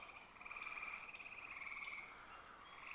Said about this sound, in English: The frogs are just getting started.